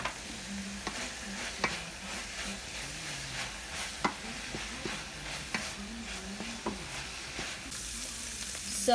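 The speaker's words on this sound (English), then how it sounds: "So the meat mixture has been cooking for quite some time" Ground beef mixture sizzling steadily in a pan, with a spoon stirring and scraping now and then in soft clacks over the constant frying hiss.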